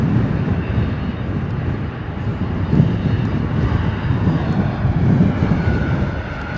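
A United Airlines jet from Houston lands at London Heathrow in wet, windy weather, a low rumbling engine drone mixed with gusty wind noise, fairly steady and moderately distant.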